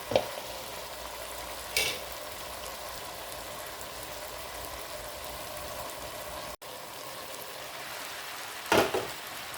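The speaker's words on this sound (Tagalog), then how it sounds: "Mix ko na to guys kasi para maluto yung repolyo" Cabbage frying in a pan with a steady, soft sizzle throughout, broken by a few brief scraping stirs near the start, middle and end, with no talking.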